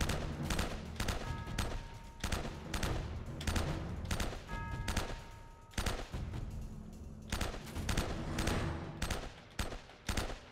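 Rapid bursts of submachine gun fire from the PS3 game Uncharted, a dense fusillade of shots repeating in volleys throughout with brief gaps between bursts, loud and close.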